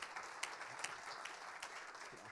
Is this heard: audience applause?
yes